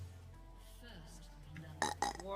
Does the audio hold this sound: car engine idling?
no